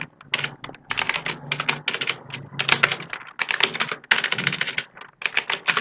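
Fast typing on a computer keyboard, a dense run of sharp clicking keystrokes in quick irregular bursts with brief pauses, close and crisp with no voices.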